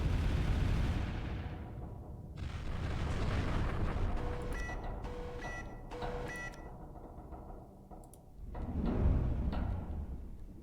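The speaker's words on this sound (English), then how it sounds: "Gonna do a thermal barrage there." Thermal barrage artillery fire in the space strategy game Final Theory: a heavy rumbling volley of booming shots, a quieter stretch with short tonal beeps, then another deep swell of blasts.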